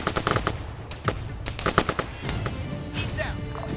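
Rapid bursts of machine-gun fire crackle through an Arma 3 firefight, sharp repeated shots close by with shorter volleys and scattered gunfire trailing off, a voice briefly shouting amid the shooting.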